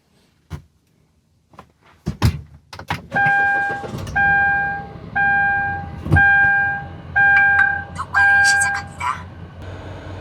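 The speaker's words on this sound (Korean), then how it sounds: "시동 한번 걸어보고 마무리하겠습니다" A car's engine is started at the end of a DIY repair job: a couple of sharp cranking bursts, then a low idle under a series of repeated electronic warning chimes.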